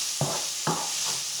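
Chinese noodles sizzle and fry in a pan under a constant bright crackle, with two sharp stirring scrapes of noodles moving through hot oil.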